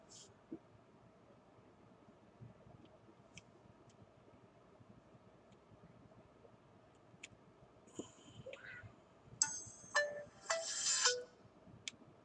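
An LG Optimus G smartphone powering on, a quiet hum at first, then a short bright chiming startup tune rising near the end, close and clear.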